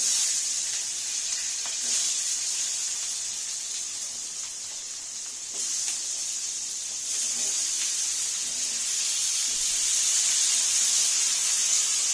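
Black cumin and green chillies sizzling in hot oil in a pan for a curry, a steady close hiss that swells and eases slightly in waves, with no talking.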